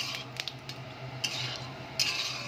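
A utensil stirs cloves, cardamom, cumin and cinnamon in a hot cooking pan, giving a few quick metallic scrapes and clinks over a low background hum.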